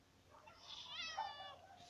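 A cat meows once, a drawn-out, rising and falling cry at moderate distance, heard outdoors beside a reservoir during a fishing trip with a faint background hiss.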